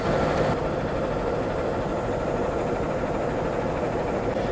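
A CC206 diesel locomotive, a 2013 first-batch unit from the Cipinang depot, idles nearby with a steady, dense low rumble and broadband hum that holds constant throughout, no voices.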